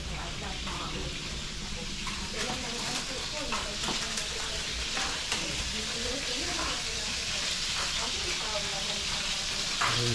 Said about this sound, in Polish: Flying fishy się smażą.